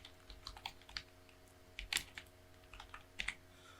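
Keystrokes on a computer keyboard while entering text in Photoshop: scattered, close clicks in short bursts with brief pauses, alone with no voice.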